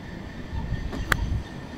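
TriMet Red Line light rail train heard at low level, a steady rumble with a brief sharp squeal or clank partway through, no talking.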